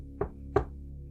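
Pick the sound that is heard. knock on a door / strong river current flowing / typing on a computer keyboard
knock on a door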